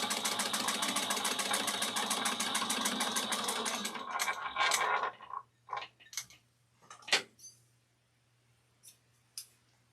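Home sewing machine top stitching a satchel one-eighth of an inch from the edge, running in a steady rapid rhythm for about four seconds, then stopping, followed by a few short clicks and handling noises.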